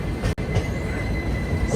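Telangana Express, an Indian Railways train between Hyderabad and New Delhi, gives a continuous close rumble of rolling coaches with a sharp click near the start, heard alone without talk.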